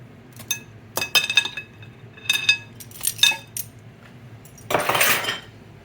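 A utensil clinks and scrapes against a bowl while red pepper is mixed into a shrimp stuffing, in irregular bursts of clatter close by with a louder rattling scrape near the end.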